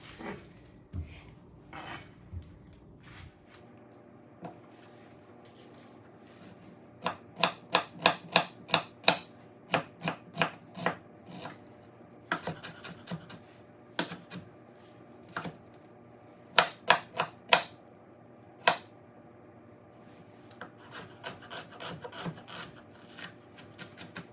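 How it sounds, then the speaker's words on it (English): A knife dices an onion on a cutting board, making crisp rhythmic chopping strokes in quick bursts with short pauses between them, close and distinct over a faint background hum. "I'm gonna go ahead and just chop one onion. We're just gonna get it diced."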